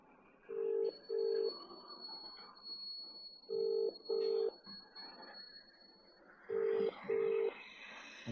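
A phone call ringing unanswered sounds as three pairs of identical electronic ring tones spaced a few seconds apart, each pair two short bright bursts, over a steady high tone and a low background murmur.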